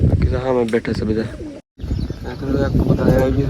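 A pigeon coos at a rooftop water trough, its soft cooing mixed with a person talking nearby throughout.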